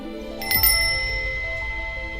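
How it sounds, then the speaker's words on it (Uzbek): A bicycle bell rings twice in quick succession, bright and close, its tone lingering over a steady low background hum. "Yaxshi, agar qo'ng'iroq ovozini eshitsang, qo'lingni ko'tar"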